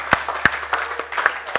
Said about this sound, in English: Give the Lord a big hand clap this morning.